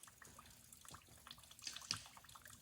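A small water source beside a forested Appalachian Trail path in Georgia trickles and drips faintly, with a few slightly louder splashes near the end over soft outdoor background.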